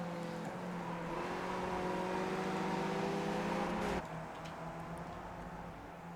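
Sim race car engine droning steadily with sustained tonal whine that shifts pitch across gear changes, loud and continuous, easing slightly near the end after a brief click.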